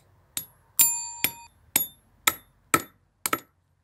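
Hammer tapping on a stone for a garden stone decor, seven sharp ringing strikes at a slow, slightly uneven pace, each with a brief metallic ring, close and alone in a quiet setting.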